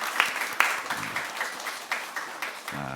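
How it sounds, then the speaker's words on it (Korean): Congregation applause at a church pastor ordination thanksgiving service, a dense wash of many hands clapping steadily, moderately loud and even throughout, with a few sharper claps standing out near the start. "우리 큰 박수로 축복해 주시기 바랍니다"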